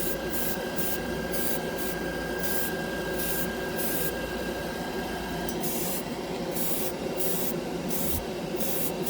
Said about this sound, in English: Airbrush just came on. Let's see, I'm spraying this at 20 psi.